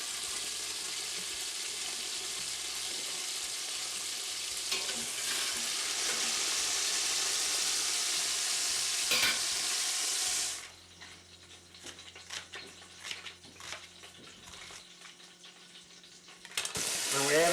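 Sausages fry in a pot of hot oil with a loud, dense, continuous sizzle that runs for about ten seconds, then cuts off abruptly and gives way to quieter scattered clinks and knocks.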